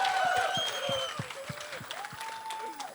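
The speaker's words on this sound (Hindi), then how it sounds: "एक बार जोरदार तालियां हो जाए बाजीराव मस्तानी के लिए" An audience claps together at the Bajirao Mastani trailer launch event, a sustained crowd round of applause heard under a host talking over it.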